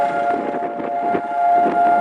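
Holocaust Remembrance Day sirens in Jerusalem wail in a sustained, steady tone with faint rising and falling, heard alone over a low background.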